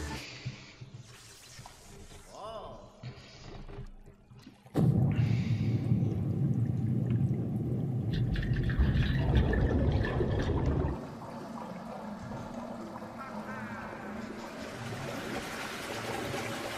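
Water rushes loudly as the level returns to normal in Luigi's Mansion 3: a sudden broad gush holds steady for several seconds, then eases into a quieter continuous flow.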